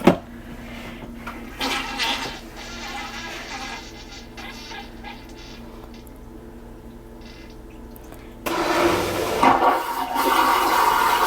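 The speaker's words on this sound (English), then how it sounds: "And you have a macerator toilet? I do. You want me to flush it so you can hear it?" An RV's macerator toilet flushes loudly nearby, a long rushing whir of water and motor that softens midway, then surges into a harsher, louder gurgling grind near the end.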